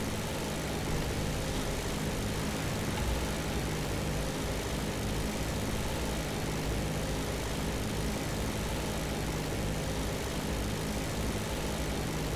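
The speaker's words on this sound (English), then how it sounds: "Oh, there's an aircraft on my tail." Enemy aircraft engine in the game War Thunder, a steady droning propeller-plane roar that holds loud and unbroken throughout, with no talking.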